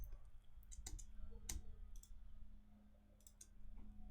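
Computer mouse clicking while shift-selecting clips in Ableton Live 11, a series of sharp, close, irregular clicks over a faint steady hum.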